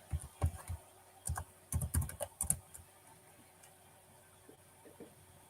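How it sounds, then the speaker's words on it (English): Computer keyboard typing: several bursts of quick, close key clicks in the first half that taper into a few faint, scattered taps over a quiet background. "just keep typing"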